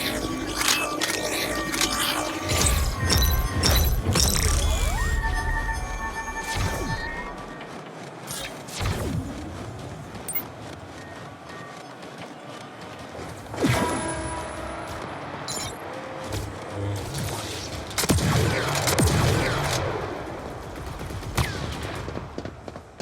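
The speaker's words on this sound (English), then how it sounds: "I hope you like explosions." Explosions and gunfire from the video game Star Wars Hunters go off in bursts of sharp blasts and crashing impacts, with quieter stretches between, and a voice is briefly audible.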